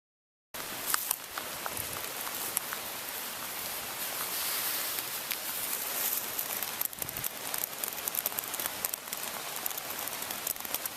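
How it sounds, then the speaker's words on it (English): Steady October rain patters on hard surfaces and a chimney cap, with scattered louder drips popping out of a constant wash of noise, no voices. "Here is a rainy day in October."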